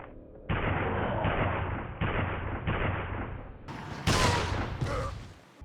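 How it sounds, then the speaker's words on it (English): A Magnum revolver in the mobile version of Resident Evil 4 firing about five heavy hand-cannon shots, each a loud booming blast with a sharp crack and lingering tail, spaced about a second apart, with no talk. "Magnum. By the way, this thing now has the hand cannon sound for some reason"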